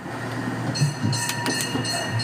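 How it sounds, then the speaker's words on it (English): A zoo train ride rolls toward a station, giving steady close rail rumble with a few soft clacks over about two seconds, alone without talk. "please remain seated, keeping your head, arms, hands, legs, and feet inside the train until we come to a safe and complete stop"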